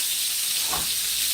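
Onions going into a hot pan for palm nut soup, a loud close sizzle and hiss with a brief lower surge partway through as they hit the oil.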